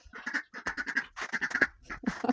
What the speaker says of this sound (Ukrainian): Оці качки, качки, каченята.